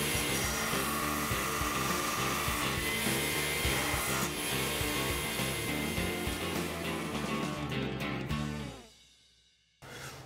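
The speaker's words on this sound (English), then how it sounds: "what I do is I just taper the clip edges on the grinder" Plastic horse shoe clip edges being tapered on a grinder, a steady abrasive whine with rubbing texture running loud and continuous before dropping off near the end, no talking.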